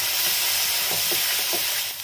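A masala of ground tomato and onion paste fries in a hot pan with a continuous loud sizzle and hiss, its bubbling spatters rising and falling throughout.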